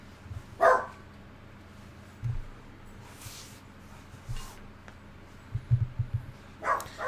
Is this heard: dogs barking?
yes